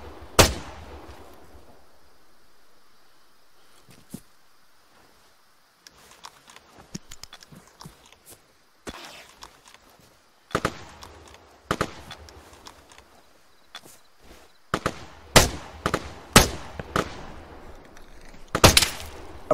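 Gunfire in a military shooter game, with sharp isolated cracks and scattered bursts of shots at varying distances, some loud and close, others faint, separated by quiet gaps.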